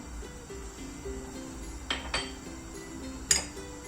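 A frying pan is handled while two tablespoons of olive oil go in for sautéed purslane. Soft metallic clinks and a few sharp knocks come at about two and three and a half seconds, close and moderately loud in a quiet kitchen.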